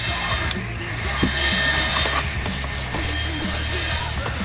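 Fine sandpaper rubs over painted metal of a Minsk motorcycle during a paint job, a continuous close scratchy hiss with rhythmic back-and-forth strokes, fairly loud and without talk.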